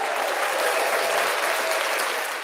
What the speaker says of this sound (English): let's get a hand clap for Mandrell.